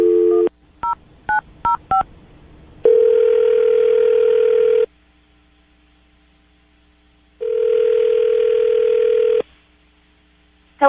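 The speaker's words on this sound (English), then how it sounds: "we're going to call her right now, see if we can get her on the phone" A telephone call is placed: a quick run of five keypad dial tones, then two long steady ringback tones separated by silence, loud and close with no talking.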